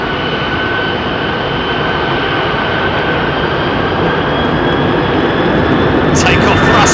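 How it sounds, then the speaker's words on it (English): A jet airliner powers up for takeoff on runway 27R at London Heathrow, a loud sustained roar with whining tones building steadily, heard from nearby with no voices. "Takeoff thrust set."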